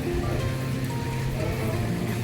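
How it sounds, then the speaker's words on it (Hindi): Heavy rain falls hard and steady in the evening, a dense continuous hiss of drops spattering on surfaces with no pause and no voices. "बहुत तेज बारिश हो रही है"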